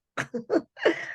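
Someone sneezes in several short bursts followed by a longer breathy release, close and clear, with no talk over it.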